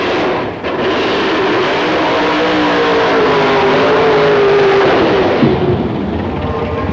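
A pro modified BA Racing Toyota Supra drag car at a 1995 shootout roars with a loud, sustained engine drone and shifting pitch, dominating with no voices.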